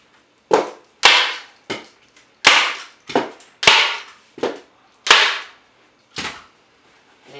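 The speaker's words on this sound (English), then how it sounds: "you're just going to staple it with a staple gun" Staple gun firing staples through fabric into a window seat cushion, about ten sharp, loud snapping shots at irregular intervals, each with a brief ringing tail.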